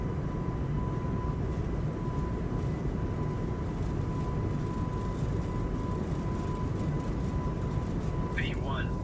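Airbus A220 engines in Microsoft Flight Simulator 2024 holding a steady, dense roar as the autothrottle engages, with a thin constant whine over the rumble and a few brief chirps near the end.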